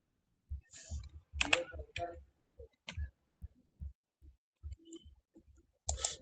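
Keys on a computer keyboard clack in short irregular bursts while a website address is entered, close and fairly quiet, with brief pauses between clusters of strokes.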